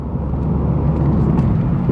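A 9th generation Honda Civic Si drives past nearby, a loud, steady engine and road rumble that fills the moment with no talk over it.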